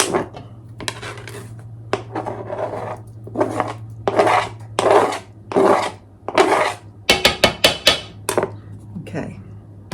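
Citrus zest being grated in a home kitchen: a series of scratchy rasping strokes, some in quick clusters, close and fairly loud, with a low steady hum underneath.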